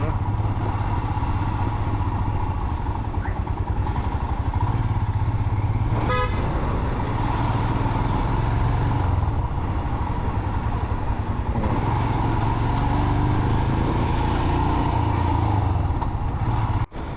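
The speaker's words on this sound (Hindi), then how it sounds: "ये है रॉयल इनफील्ड हिमालयन बाइक।" A rented Royal Enfield Himalayan motorcycle rides along a road heading out from Chandigarh toward hills, its engine droning steadily and loudly throughout, with a brief horn toot partway through and wind noise.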